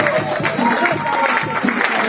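A church congregation claps and cheers amid a busy, reverberant room, with voices and some tonal sounds mixed into the brief burst.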